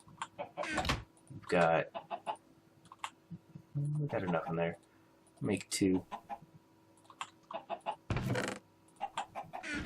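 Video game chickens cluck and squawk in short bursts, scattered among frequent nearby talk and a few clicks.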